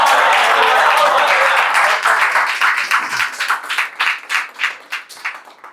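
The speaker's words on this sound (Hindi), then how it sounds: "यार ताली बजाओ" Audience applause at a Hindi shayari poetry recital in Chatra, Jharkhand, starting as dense steady clapping and thinning into rhythmic unison claps that pulse and fade, loud and close.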